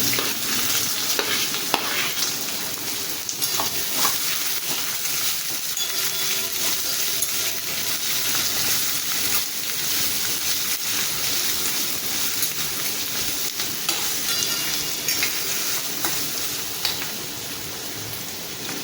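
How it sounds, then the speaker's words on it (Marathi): Onion sizzling in hot oil with curry leaves, fried as part of a spicy masala cashew dish; a dense, steady crackling hiss runs close and loud throughout, with occasional stirring scrapes and no talk. "तेलामध्ये व्यवस्थित भाजलं गेलं आहे आपण आता कांदा घालून घेऊया"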